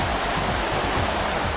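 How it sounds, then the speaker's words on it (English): A creek beside a solo campsite rushes in a steady, close wash of flowing water, continuous and even with no voices. "And right over here is the creek."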